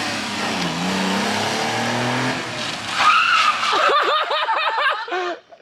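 A JDM mini truck skids as the handbrake is pulled, a steady broad scrape of tyres over engine drone for several seconds, then whoops and yelling voices take over near the end.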